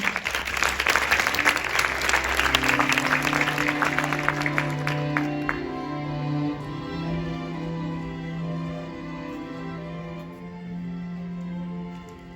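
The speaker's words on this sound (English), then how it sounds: "please join me in welcoming with a great round of applause our special guests for tonight, Habiba Al-Khatib" A large audience at a L'Oréal–UNESCO For Women in Science evening gives a warm, sustained round of applause for an arriving guest speaker, loud and dense at first then easing off beneath a soft musical tone.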